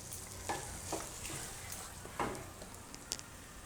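Palak paneer bhurji being mixed in a pan, quiet soft sizzling with several distinct spatula scrapes and knocks at irregular intervals, close but low in level.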